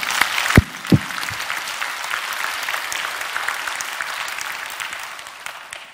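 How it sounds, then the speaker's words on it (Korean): A church congregation breaks into steady applause that fills the hall, opening with a couple of sharp, loud claps and then settling into a dense, even patter. "하나님께 영광의 박수합시다."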